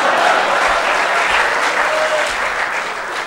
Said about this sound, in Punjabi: ਭਾਈ ਜੀ ਖੁੱਲ ਕੇ ਤਾੜੀਆਂ ਮਾਰੋ